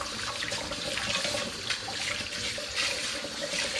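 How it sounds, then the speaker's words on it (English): Capped and caged cider bottles rinsed under running water, a steady close hiss and splash of flowing water with faint rattles, no talking. "I'm just going to give them a little shower to get the sticky residue off the outside."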